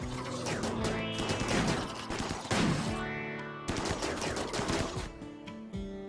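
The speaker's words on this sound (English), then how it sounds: "Uh-oh, somebody got shot somehow, Pegawar?" Gunfire in the video game Rimworld: a dense, sustained rattle of rapid shots with overlapping game sound effects, loud and continuous for several seconds, briefly broken and then resuming, with no talking.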